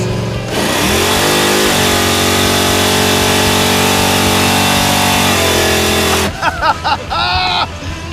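A supercharged big block Chevrolet Impala roars through a rolling burnout, its engine held at a loud, sustained high rev with shifting pitch for several seconds before dropping off into rougher, sputtering revs near the end.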